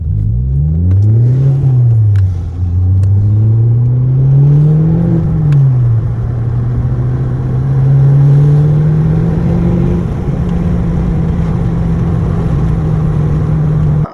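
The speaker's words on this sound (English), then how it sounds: "we just took the Volvo out for a test drive" A Volvo car engine runs steadily on a test drive after its misfire was fixed with new spark plugs and coils, rising and falling in pitch through gear changes as it accelerates. The drone is loud and continuous, with no voices.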